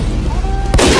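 Video game gunfire: a single loud, sharp shot bursts out near the end after a quieter stretch of background game noise, close and forceful.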